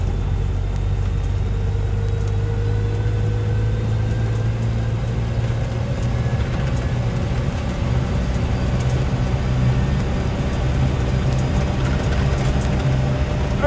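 A 1950s-era Land Rover Series 1 86in soft top with a 2.25 petrol engine drives along a bumpy farm track, its engine droning steadily under road rumble and slight rattles, heard from inside the cab without speech.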